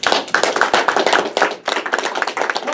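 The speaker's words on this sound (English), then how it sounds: "Let's give a round of applause." Audience at a Toastmasters meeting applauds with brisk, close-sounding hand claps in a steady flurry, briefly dipping in the middle before picking up again, with no talking.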